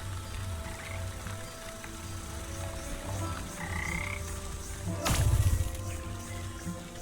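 Frogs croak steadily in the swampy world of the video game Wytchwood, a low continuous chorus with a brief louder splash or squelch near the end, heard with no talk.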